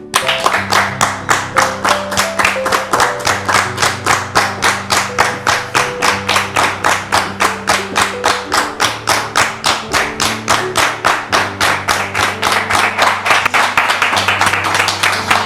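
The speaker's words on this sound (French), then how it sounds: "On va la recevoir maintenant sous vos applaudissements." Rhythmic, steady clapping from an audience welcoming a guest onto a church stage, dense and continuous for about fifteen seconds with a tapping beat and low musical tones underneath.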